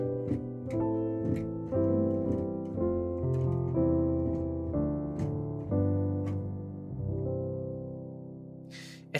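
Piano chords descend from the tonic down to the 2, then resolve through 5 to 1, sounding as full sustained chords with a melody on top. The phrase rings close and clear before fading at the end.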